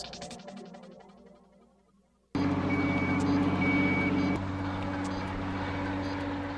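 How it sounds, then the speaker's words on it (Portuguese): A specialised heavy truck at a bridge construction site gives loud, evenly spaced reversing beeps over a steady engine drone, following a fading musical passage. "Para instalar as enormes longarinas, a equipe desenvolve um caminhão especializado mais forte que qualquer outro"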